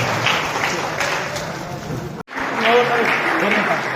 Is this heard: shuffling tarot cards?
no